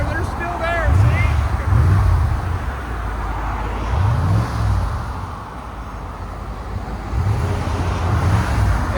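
A 1987 Mercedes 420SEL with a 4.2L V8 and resonator delete idles with a steady, low engine rumble and slight swells in level, while a voice talks over it at times.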